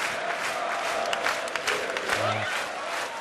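A large crowd of about 2,000 at the World Series Darts Finals applauds and cheers in a continuous roar, with a commentator talking over the top.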